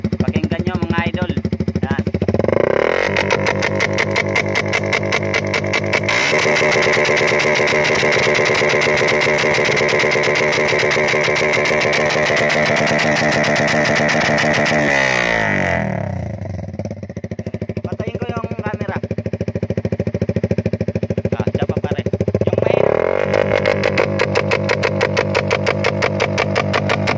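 A motorcycle fitted with a tube-type exhaust pipe runs close by, chugging at idle and then revving hard in sustained bursts before settling back to a loud, pulsing idle.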